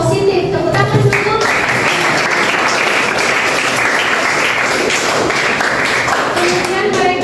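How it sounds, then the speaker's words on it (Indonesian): Sustained classroom applause from students fills the whole stretch, dense and steady clapping with some voices mixed in. "Tepuk tangan dulu."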